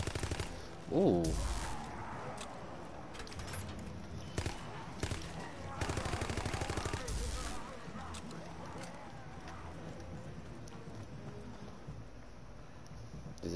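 Rapid bursts of gunfire in a World War 2 zombies shooter game, a few loud rattling volleys over several seconds, with a voice briefly exclaiming and a player talking.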